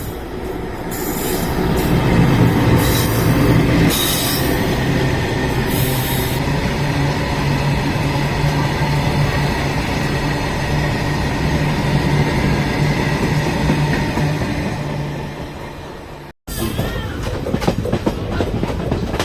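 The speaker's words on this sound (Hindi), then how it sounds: "तो एक गुड्स ट्रेन की क्रॉसिंग होने वाली है।" A goods train crosses close by on an Indian line, a loud sustained roar of rolling wagons with rhythmic wheel clatter and squeals. The sound cuts out briefly, then resumes.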